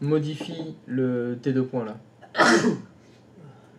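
A person lets out a single sharp, loud sneeze indoors shortly after a stretch of French speech, then quiet.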